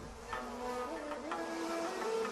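Japanese honeybees swarm around a giant hornet, producing a dense, close buzzing drone with shifting pitches and occasional louder passes, with no talking.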